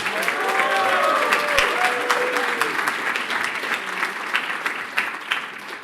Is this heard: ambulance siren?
no